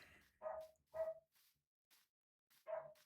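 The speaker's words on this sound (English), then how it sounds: "He's barking" A dog barks in three loud, close bursts with short pauses between them, a fainter yip trailing after the first pair, and no talking over the barks.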